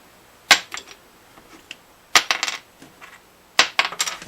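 A small broken plastic guitar part, from the underside of an acoustic guitar, is dropped or tapped on a hard surface, giving three clusters of sharp, bright clicks with quick little bounces, close and alone.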